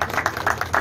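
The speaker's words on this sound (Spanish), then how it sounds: "Un aplauso pido para él" Brief, close clapping from a small group honours a deceased bachata singer, a quick burst of hand claps lasting under a second.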